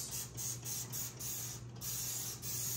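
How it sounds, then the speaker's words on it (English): Repeated short hissing bursts from a spray bottle of cleaner sprayed onto oven door glass, several quick pumps in a steady rhythm, close by over a faint low hum. "And you just spray it and let it sit."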